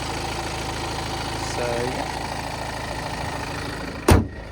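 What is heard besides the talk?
Mini Cooper SD 2-litre diesel engine idling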